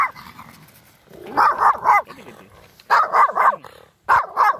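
A dog barks in repeated bursts of several loud, close barks, separated by short pauses, near a river below Mýrdalsjökull glacier in Iceland. Someone speaks briefly between the barks.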